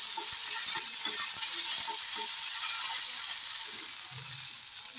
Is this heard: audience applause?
no